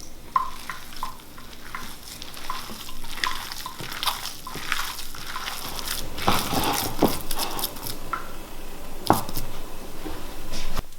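Ground meat seasoned with salt and pepper is mixed by hand, giving close, wet squelching and slapping sounds in an uneven rhythm, with a few sharper clicks of contact.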